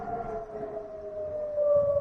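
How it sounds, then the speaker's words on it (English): Air raid sirens wail at Incirlik Air Base in Turkey, a steady sustained tone that slides slowly downward in pitch, heard from a distance over a low rumbling background. "as you can hear right there are the sirens going off of the Incirlik Air Base in Turkey"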